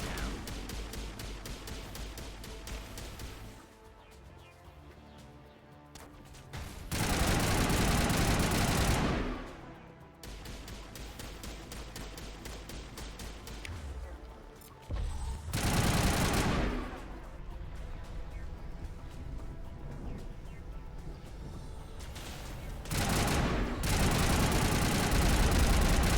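Heavy artillery fire in the Mass Effect video game, booming in several loud broadband bursts, each a few seconds long, spaced out over a constant rumble of combat and machinery.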